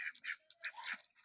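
Pet ducks at a home in a village quack near a water tap, with several short, raspy calls in quick succession at close range and no talking.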